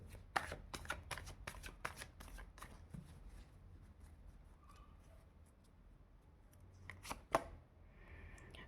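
Tarot cards riffle and snap in quick repeated bursts during a reading, crisp and close, fading into a quiet stretch before another short flurry near the end.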